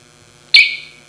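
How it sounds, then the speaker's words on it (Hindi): A single sharp electronic beep from a shop security system sounds as the shutter finishes closing, short and loud against a quiet background. "नीचे जाने के बाद एक बीप की साउंड आएगी"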